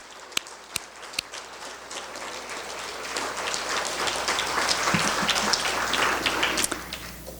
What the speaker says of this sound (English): let's all give our whole group a round of applause